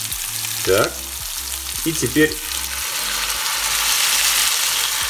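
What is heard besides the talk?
meatballs frying in a pan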